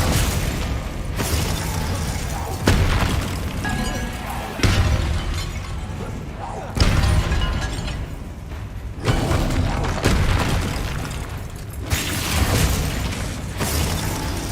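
Bombarda and Confringo spell explosions from Hogwarts Legacy sound as a series of heavy, shattering blasts roughly every two seconds, dense and rumbling, with debris crackle trailing each hit and no voices.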